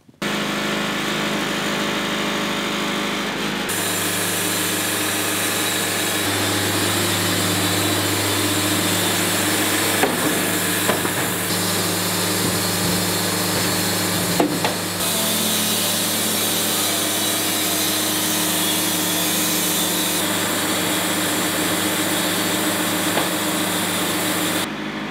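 A sawmill blade whines loudly and continuously as it cuts a spalted sugar maple log into boards, the pitch shifting slightly as the cut progresses, with no voices.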